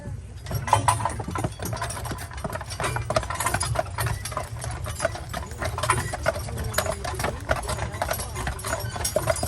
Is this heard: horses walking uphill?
yes